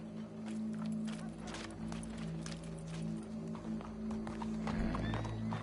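A horse in Red Dead Redemption 2 clip-clops with its hooves and gives a whinny near the end, over a low steady in-game ambient drone.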